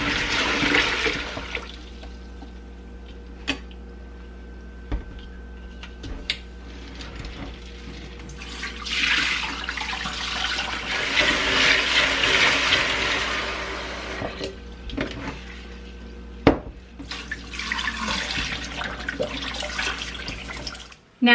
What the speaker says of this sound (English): fill up the pot, swish it around with water, and then carefully dump the water out.